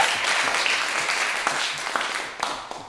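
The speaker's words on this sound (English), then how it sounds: "please applaud all the poets tonight." Audience members clap for the poets at a 2019 poetry slam at the Barron Arts Center, a continuous wash of applause that gradually thins toward the end, with a few sharper individual claps.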